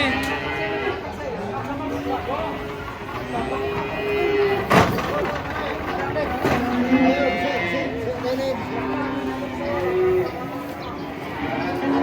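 Cattle are unloaded from a truck with repeated low moos over a constant rumble, plus a sharp knock near the middle, while people chatter excitedly throughout.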